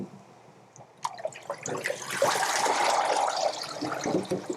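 Water runs and trickles out of holed seed plug trays into a sink, a steady splashing drain that starts with a sudden gush and continues at moderate, close volume without talk.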